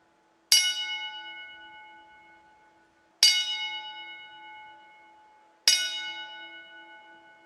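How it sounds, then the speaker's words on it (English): A bell rung slowly for a ten-bell salute at a wrestling event: three clear, loud strikes spaced a few seconds apart, each ringing out and decaying alone in silence. "Here comes the 10-bell salute."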